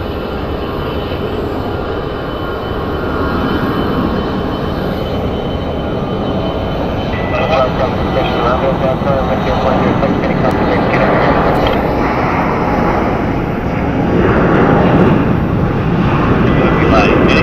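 An airliner arrives at Phoenix Sky Harbor Airport with a loud, broad engine roar that holds steady and swells toward the end, with faint voices underneath.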